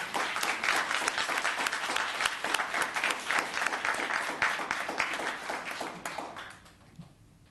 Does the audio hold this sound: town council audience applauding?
yes